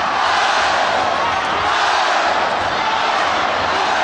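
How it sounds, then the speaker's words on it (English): A Muay Thai fight crowd roaring in support of Seksan as he chases his 200th win, a dense, loud, sustained mass of cheering and shouting with no break. "This crowd is really supporting Seksan, who's chasing his 200th win"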